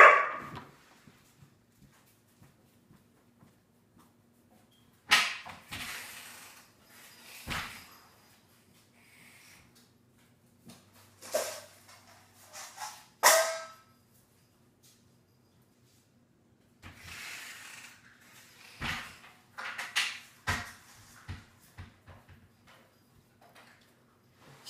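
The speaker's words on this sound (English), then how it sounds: "The dog that we have with us right now, the big one that's making all that sound" Large year-old dog barking indoors, scattered loud barks in bursts separated by quiet stretches, with some knocking and movement between.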